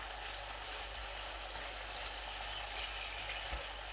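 Onions frying in a pan for tawa chicken, making a steady, dense sizzle that holds at an even, moderate level throughout with no talk.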